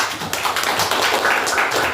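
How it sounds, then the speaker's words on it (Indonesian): A crowd of teachers applauds at a PGRI teachers' association conference for Kemenag madrasah staff in Tegal, producing dense, continuous clapping that stays fairly loud and steady for about two seconds, with no speech over it. "Tepuk tangannya."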